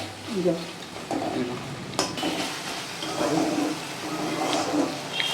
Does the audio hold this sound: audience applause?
no